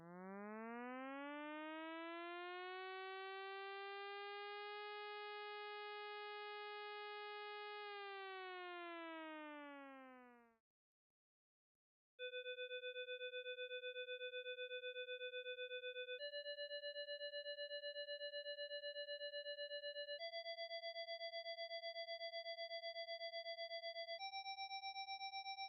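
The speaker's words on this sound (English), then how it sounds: "This is a siren that gets everybody's attention." A flood warning siren in the Venice canals wails, rising and holding before falling away, then after a pause sounds a series of steady tones that step upward in pitch, loud and unbroken.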